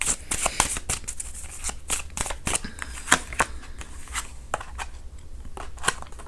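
Tarot cards being shuffled by hand, giving a quick run of crisp, papery riffles and flicks that come in close, irregular bursts throughout with no voices.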